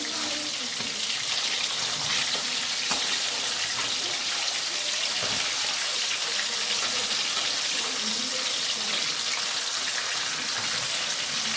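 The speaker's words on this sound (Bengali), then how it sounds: "মাছগুলো ভেজে নিচ্ছি" Hilsa fish pieces fry in hot oil with a steady, dense crackling hiss that runs unbroken at an even level throughout.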